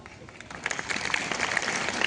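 A school Thanksgiving Day assembly erupts in steady crowd applause, dense clapping from many hands swelling after a brief start and continuing close and loud for about two seconds.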